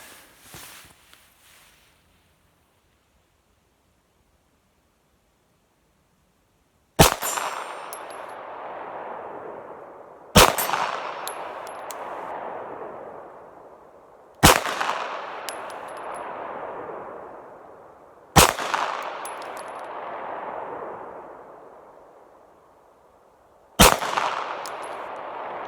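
A Glock handgun fires five evenly spaced shots at a steel target. Each loud, sharp crack rings out with a metallic decay before the next, with no talking.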